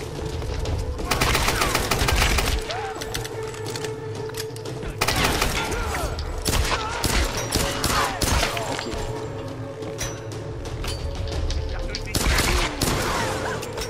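Gunfire in the Tomb Raider video game, dense rapid bursts of shots and impacts continuing loudly throughout, with game sound effects layered underneath.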